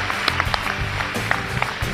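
Applause from the audience at a charity ramp walk for a cause, steady clapping of moderate loudness with scattered sharper claps throughout.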